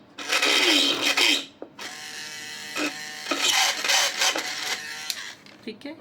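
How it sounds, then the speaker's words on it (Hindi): A small handheld drill machine whirs in loud bursts while boring three or four holes in a resin wall clock, the buzzing motor starting and stopping close by. "मैं आपको छोटी ड्रिल मशीन से करना बता रही हूँ कि आपने 3-4 इस तरह से सुराख कर लिए"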